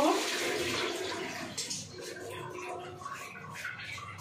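Pointed gourds (potol) being rinsed in water in a kitchen, a steady splashing and running-water wash that churns continuously at close range with no talking.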